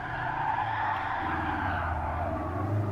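Race car tires squealing under hard braking in the Gran Turismo Sport racing game, a steady screech over engine drone lasting several seconds, moderately loud with no talk.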